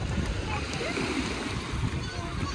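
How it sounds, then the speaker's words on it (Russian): Water splashing close by in the sea in Egypt, a continuous broad wash of sloshing and spatter with voices mixed in. "Зачем ты брызгаешь сразу?"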